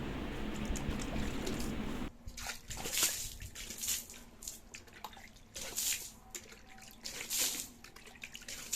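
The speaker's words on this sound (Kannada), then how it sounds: "ಇವಾಗ ಹೊರಗಡೆ ಎಲ್ಲ ಕ್ಲೀನ್ ಮಾಡಿಕೊಂಡು ನೀರು ಹಾಕ್ತಾ ಇದ್ದೀನಿ" Water is splashed and poured outdoors while cleaning the yard on a cold early morning, making irregular wet splashes and drips, fairly close and without talk.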